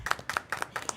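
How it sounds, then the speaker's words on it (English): Scattered hand clapping from a small audience at a school board meeting, a quick irregular patter of claps lasting about a second. "I'd like to applaud them"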